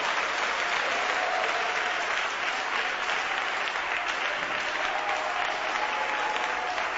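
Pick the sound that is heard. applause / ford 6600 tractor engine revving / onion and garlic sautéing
applause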